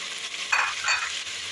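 Tomato paste and potatoes sauté in a pan for a bean stew, a short close sizzle with two quick stirring swishes.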